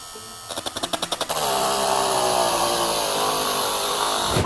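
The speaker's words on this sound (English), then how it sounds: "after sanding it down a bit, I exchanged the sanding paper on top with a polishing tool" A power sander starts with a quick stuttering burst, then runs at a steady, loud buzzing whir while sanding a cosplay sword, staying close and unbroken to the end with no talking.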